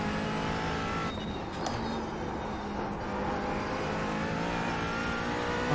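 A race car engine in a racing video game on the Nords circuit holds a loud, steady drone that rises and falls slightly as the car shifts gears, continuous throughout with no talk.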